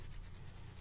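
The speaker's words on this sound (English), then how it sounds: "The main sound is the beard scratching." Fingers scratching through beard hair in close-up ASMR style, giving a steady, soft, dense rasping that continues without pause for the whole brief moment.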